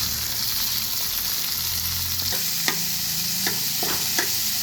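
Boiled chickpeas stirred with salt and coriander in a hot pan give a steady low sizzle, with a few light spoon knocks and scrapes toward the end.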